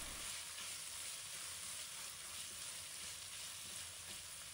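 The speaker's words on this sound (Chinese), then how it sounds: "再把瘦肉下锅中，迅速把瘦肉炒散" Lean pork is stir-fried in a wok, giving a steady, even sizzle that stays faint and continuous with no talking.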